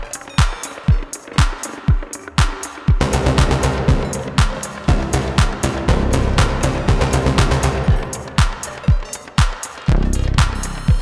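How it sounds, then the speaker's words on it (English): A Moog Source and a Behringer Pro 1, a clone of the Sequential Circuits Pro 1, play electronic synth bass lines over a loud beat with sharp, punchy drum hits in a driving, repeating rhythm, with no voices. "for bass duties, I'm usually using the Moog Source and the Behringer Pro 1"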